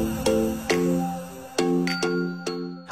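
A large church bell in Roxas City, Philippines, rings out in repeated clanging strikes, each leaving a ringing metallic tone that overlaps the next, loud and close.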